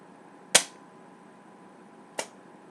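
Two sharp, isolated snaps from a Nerf Triad blaster fitted with a 12 kg powerplant spring, fired in a quiet room with a second shot following about a second and a half after the first.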